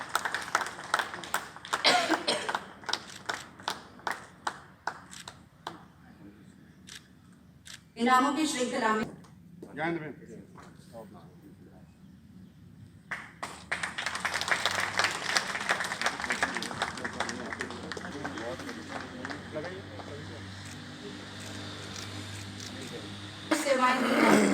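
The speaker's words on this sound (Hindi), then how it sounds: "जोरदार तालियां अनिल थापर जी के लिए।" Audience applause for an honoree at a Chandigarh Municipal Corporation Independence Day ceremony, a loud sustained burst of clapping swelling in the second half, with a Hindi announcer speaking over and between it and scattered coughs.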